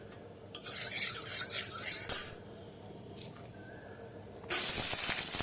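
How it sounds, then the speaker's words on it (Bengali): Green chilies frying in oil in a pan over a wood fire, with bursts of sizzling hiss and a utensil scraping and stirring, the frying noise swelling loudly at the start and again near the end. "লঙ্কাটা আমি ভেজে নিচ্ছি"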